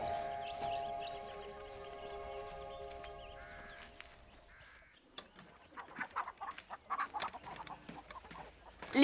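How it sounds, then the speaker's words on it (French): Hens cluck and squawk in a farmyard, with steady overlapping calls at first and then a busier run of sharp, louder clucks and caws near the end, with no talk. "Les poules pondent davantage depuis que vous êtes là."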